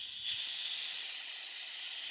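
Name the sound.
compressed air from an air compressor blowing out a hose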